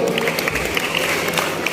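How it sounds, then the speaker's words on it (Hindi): An audience at a talent show event in Jind claps in a short, steady burst of crowded applause, close and fairly loud throughout. "एक बार जोरदार तालियां हो जाए"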